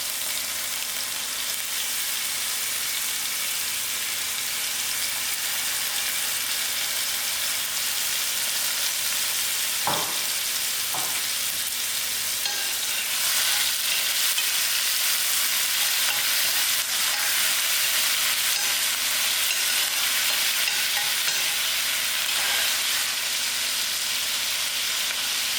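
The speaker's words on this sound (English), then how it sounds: "While that is melting, I am going to put in my onions." Onions frying in melted butter for butter chicken, a loud continuous crackling sizzle close to the pan, with a few brief stirring knocks partway through and no voices.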